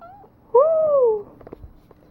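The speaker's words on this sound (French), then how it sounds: "C'est ton ami, le chat?" A cat gives a couple of faint, short mews, then one loud, drawn-out meow close by, followed by quiet shuffling sounds.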